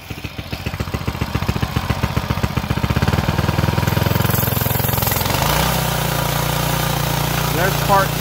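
A small mini bike engine with a governor starts up and runs, its throttle pushed from part to full: a rapid, loud putter that steadies into a dense close-up drone with a shift in pitch partway through.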